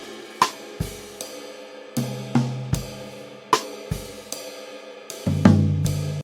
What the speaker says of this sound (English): I've added in this jazz drum break to be layered with the drums.